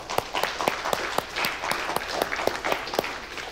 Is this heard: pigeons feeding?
no